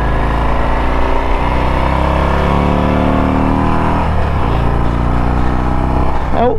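A Harley-Davidson Ultra Limited touring motorcycle engine drones steadily and loud, pitch shifting slightly as it rides through a bend, with a brief rise in revs near the end.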